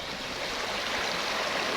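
Steady broadband rush of a clear stream flowing down from the Koi Dok waterfall near Kaeng Khoi, Saraburi, continuous and fairly close, with no voices over it.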